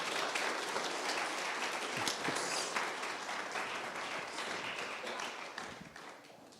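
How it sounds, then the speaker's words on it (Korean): An audience at an evening church gathering applauds to welcome a missionary: dense, continuous clapping that stays fairly loud and then tapers slightly toward the end. "선교사님 나오실 때 우리 박수로 환영하도록 하겠습니다."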